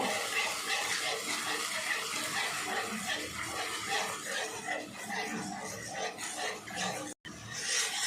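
Okra is stirred and mashed into a little water for a sweet-and-sour chutney, giving soft wet squelching and sloshing that repeats irregularly at close range, fairly quiet, with no speech.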